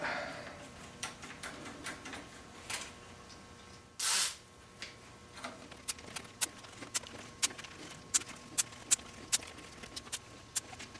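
A short, loud hiss of aerosol contact cleaner sprayed under a vintage mixing console's faders lasts about half a second, followed by a series of light clicks and taps close by.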